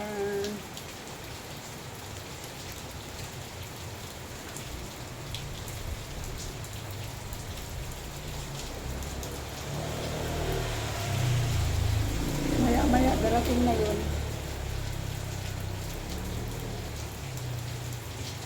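Heavy rain falls outside a house gate in General Santos City, a constant close hiss, with a vehicle rumbling past midway and a person speaking briefly.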